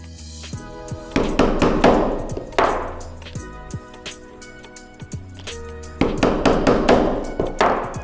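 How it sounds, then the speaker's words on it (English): Metal rivets are hammered into a leather glasses case in sharp, ringing strikes, fast bursts of several blows each, separated by brief pauses, close and loud. "we're gonna go ahead and set our rivets."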